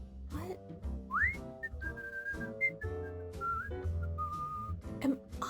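A Disney film character whistles a wandering tune of clear sliding and held notes, close and fairly loud over soft orchestral music, with no talking.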